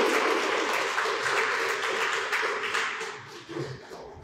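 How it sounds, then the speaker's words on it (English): Audience applause at a Priest River talent show piano recital, a dense wash of many hands clapping that stays loud throughout and thins slightly near the end. "Give him a round of applause."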